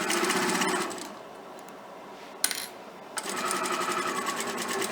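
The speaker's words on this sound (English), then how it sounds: "I am going to take this line to my sewing machine and I am going to sew straight down the line" A sewing machine stitches fabric along a straight line, running loud and fast, stopping for a second with a click and a short burst, then starting up again at steady speed.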